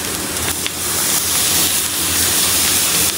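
Prawns frying on a tawa, a loud continuous hissing sizzle that swells slightly midway and stays close.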